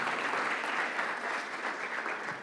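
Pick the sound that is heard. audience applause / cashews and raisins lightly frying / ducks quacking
audience applause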